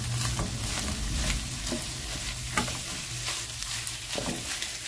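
Ground meat fries in rendered bacon grease for lasagna while a utensil breaks it apart, giving a continuous close sizzle punctuated by regular scraping and tapping strokes against the pan.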